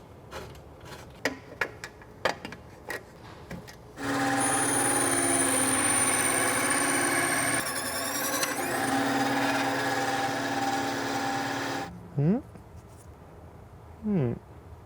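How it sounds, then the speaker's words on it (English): A power tool with its blade tilted to 45 degrees, guided along a fence, bevels an edge of EVA foam, whirring steadily for about eight seconds after a few clicks and taps, then two short bursts. "I have mine set up, tilted at 45 degrees so I can cut a bevel off of it"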